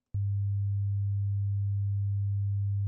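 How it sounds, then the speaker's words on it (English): A low-pitched pure sine test tone starts abruptly after a brief click and holds steady and loud with no change, a smooth unbroken hum with nothing else present. "If we go down in terms of number of hertz, we get lower tones like this one."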